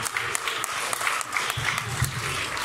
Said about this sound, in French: Ben oui, on va applaudir.